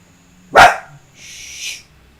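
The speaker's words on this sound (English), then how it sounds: "No, you don't need to bark at him." A household dog barks once, loud and close, at the mail carrier arriving, followed by a softer, drawn-out whine or yelp trailing off in an otherwise quiet room.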